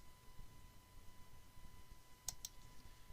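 Two quick mouse clicks land close together near the end, a sharp double click while opening the InHand Device Manager sign-in, over a quiet, steady background hum.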